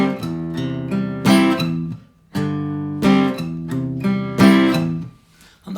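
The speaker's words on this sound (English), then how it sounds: "that second bar played slowly would sound like this" Guitar plays the second bar of a riff slowly, a few strummed chords with ringing open strings, clear and close, separated by brief pauses, with no talking.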